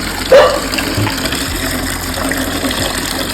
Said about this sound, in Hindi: मैंने पानी भी डाला है, लेकिन पानी नहीं पिएगी।